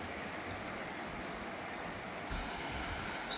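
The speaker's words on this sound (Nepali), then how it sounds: "काली खोला बाढी आएको छ" The flooded Kali river rushing in a steady, dense roar that stays even and unbroken throughout, with no voices.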